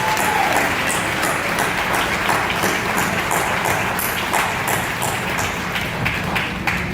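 Audience at a commissioning dinner in New York City applauds, a steady dense clatter of many hands clapping that holds at an even level for the whole stretch with no talking over it.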